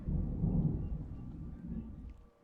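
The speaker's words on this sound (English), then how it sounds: "again you might hear the storm in the background." A thunderstorm rumbles in the background as a low, rolling thunder roll that swells briefly and then fades out, fairly faint and distant with no talking over it.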